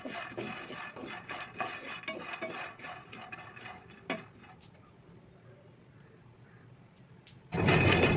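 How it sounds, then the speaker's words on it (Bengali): Nuts stirred in a pan over medium heat give a run of close dry rattling scrapes and clicks that fade into quiet, followed by a sudden loud rushing burst at the end. "মিডিয়াম আঁচে রেখে আস্তে আস্তে বাদামগুলোকে নেড়ে চেড়ে ব্রাউন কালার করে নিতে হবে।"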